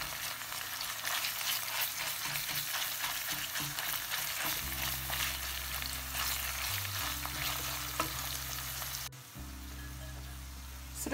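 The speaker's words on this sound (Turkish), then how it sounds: "Salçanın kokusu gidene kadar onu da şöyle güzelce bir kavuralım." Pepper and tomato paste fry in a pan with a steady, loud sizzle that runs throughout, close up and with no voices.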